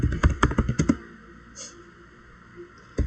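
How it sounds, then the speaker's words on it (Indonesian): Quick, close clicks of keys on a computer keyboard as a command is typed, a burst of about ten taps in the first second followed by quiet, with one more tap at the very end. "Jadi di router 2 kita ketikkan IP route"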